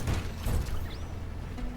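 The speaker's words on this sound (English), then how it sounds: "vacuum harvester" Mechanical whirring and ratcheting of a vacuum harvester machine in the video game Lightyear Frontier, a short clattering burst that settles into a steadier hum with a faint rising whine.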